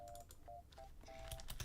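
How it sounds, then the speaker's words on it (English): Faint, scattered clicks of computer keyboard typing in a quiet room, irregular taps with brief electronic beeps and no voices. "you're gonna hear lots of typing."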